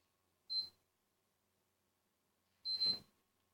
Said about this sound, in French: Elle doit biper 3 fois.